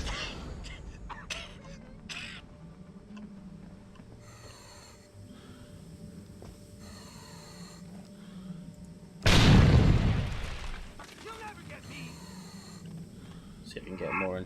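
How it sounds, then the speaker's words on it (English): A single grenade explosion in the video game Deus Ex: Human Revolution, a sudden loud boom with a rumbling decay, heard partway through over steady game background noise, with a person talking. "Throw grenades."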